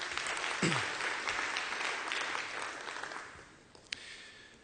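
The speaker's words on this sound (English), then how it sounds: "Give yourself a round of applause, please." Applause from a keynote audience at the LS Retail conneXion 2015 conference: dense clapping that gradually thins and fades, with one sharp knock near the end.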